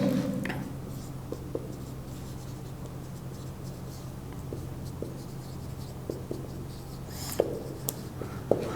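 Faint scratchy strokes of writing on a board during a Pakistan Studies lecture in a quiet classroom, with soft, irregular taps and scrapes and only brief murmurs.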